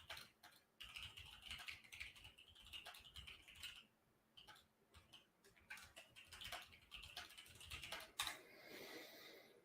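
Rapid typing on a computer keyboard, close up, with irregular bursts of clicking keys and brief pauses between runs.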